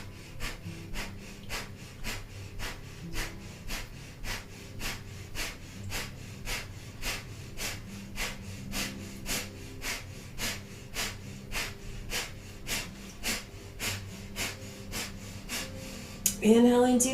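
Rapid, forceful rhythmic breathing from navel pumping in a Kundalini yoga kriya, steady bursts about one per second held close and even throughout, with a brief voiced sound at the very end.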